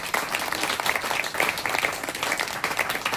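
A church congregation claps its hands together in quick, busy applause, a crisp patter that stays fairly steady throughout a few seconds of praise.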